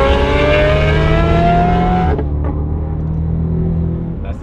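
A rally car engine revs hard at close range, a loud, rising mechanical roar that holds and then drops sharply as the throttle lifts, with a lower idle rumble continuing afterward.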